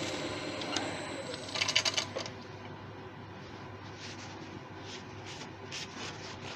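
A turned cherry wood bowl is buffed on the lathe, giving a quiet, steady whirring hum. A brief, scratchy patch of rubbing stands out early, and the rest is faint, even motor sound with no talk.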